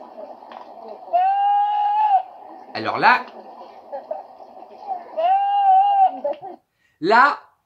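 A person imitates a goat calling to its companion, with several long, wavering bleats and shorter cries and a few spoken French words between the calls.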